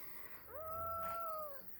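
A single soft cat meow, rising then holding steady for about a second before trailing off, close but fairly quiet against a faint background hum.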